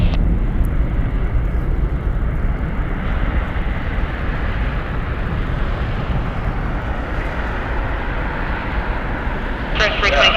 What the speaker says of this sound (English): We got our San Diego flight Southwest 114. taking the runway